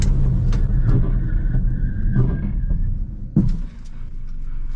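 A Hyundai car brakes from about 100 km/h during a road brake test, with loud, close, continuous road and engine rumble and a brief knock near the end as it slows.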